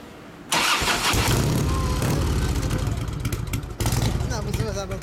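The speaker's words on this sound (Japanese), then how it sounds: "エンジン音聞かせてもらえますか？" A 1998 Harley-Davidson FLSTS Heritage Springer with an Evolution V-twin fires up abruptly and settles into a loud, close, lumpy idle, with one brief dip in sound, while voices talk in the background.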